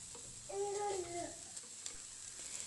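Minced beef, almost 250 grams, hitting a hot pan for savoury crêpe filling, giving a soft, steady sizzle that stays faint throughout.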